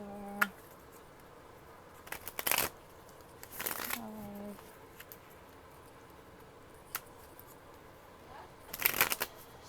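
Tarot cards riffled and shuffled in a few short bursts of papery flutter, separated by quiet stretches with faint handling, a short voiced sound near the start.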